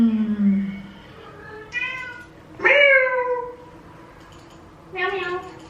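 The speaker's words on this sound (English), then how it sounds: "Meow meow." A cat meows several times, in separate short calls with pauses between them, fairly close and clear, with no talking over the calls.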